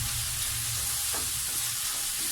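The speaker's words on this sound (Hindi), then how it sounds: "मटर को भी थोड़ा भूनेंगे" Peas sautéing in a pan with chicken, capsicum, cabbage and carrot, a dense continuous sizzle heard close and steady with a faint scrape of stirring.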